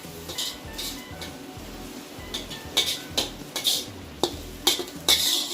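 A utensil stirs noodles with green chilies in a pan, giving repeated scraping clinks against the metal in an irregular rhythm, close and moderately loud with no talking.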